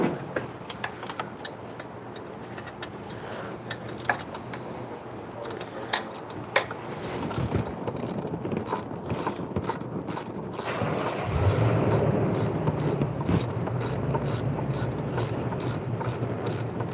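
A ratchet wrench on an extension turns a 10 mm bolt during repair work on a Mazda B2300 pickup, giving bursts of rapid pawl clicks, then a louder, denser stretch of continuous ratcheting.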